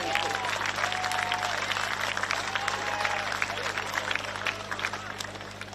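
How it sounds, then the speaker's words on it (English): A crowd applauds at the Confraternity Carnival, a school sports carnival, for the Emmaus Rockhampton team. The clapping is dense and steady, with scattered cheers and whistles, and it fades slightly near the end. "the final round of applause for Emmaus Rockhampton"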